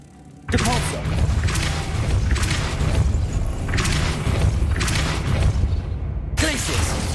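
Depulso force-push spell cast in the Hogwarts Legacy video game, a loud, dense burst of booming rumble that holds steady for several seconds, swelling in repeated surges and then cutting off briefly before resuming.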